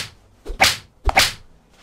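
Two sharp whip cracks as a sound effect, each a crisp snap preceded by a short swish, close and loud with a pause between them.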